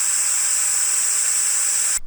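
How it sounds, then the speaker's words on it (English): An Instant Pot on manual pressure release vents steam in a loud, steady, harsh hiss after 20 minutes at high pressure, stopping abruptly at the end. "that was the sound of a manual release after our 20 minutes was up"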